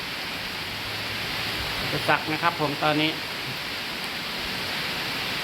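Rain falls steadily in a constant broadband hiss throughout, with someone speaking briefly over it in the middle.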